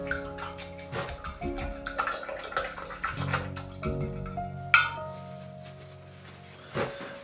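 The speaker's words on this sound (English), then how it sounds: "I didn't wash my brush out properly." A watercolour brush is rinsed in a small pot of water with gentle swishes, drips and taps against the container, close and quiet, in a few separate bursts.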